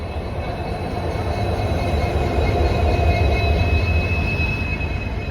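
Passenger train 57406 runs at speed, a loud, steady roar of wheels on rail with a thin squealing whine above the rumble, heard continuously from on board with no talk.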